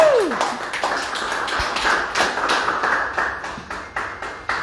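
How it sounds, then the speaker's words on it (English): A small audience at a hip hop legacy talk claps in loose, scattered bursts, individual hand claps distinct and moderately close rather than a dense roar, with a brief whoop near the start. "Let's do a round of applause."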